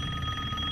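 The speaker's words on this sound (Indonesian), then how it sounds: "Udah tuh telepon gak diangkat gitu, biarin aja gitu" A telephone rings in the horror video game Resident Evil Village, a steady, continuous ringing tone heard alone and fairly quiet for a brief moment.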